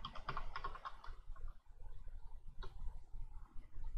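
Keys tapped on a computer keyboard while entering a disk-cleaning command during a PC setup, a quick cluster of soft close clicks followed by a few sparser taps over a low room hum.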